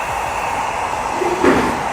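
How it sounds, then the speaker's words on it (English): A heat gun blowing on vinyl film over the side chrome trim of a 2014-2020 Lexus IS, a steady close airy whoosh with a constant motor hum that swells slightly near the end. "So you just grab your heat gun"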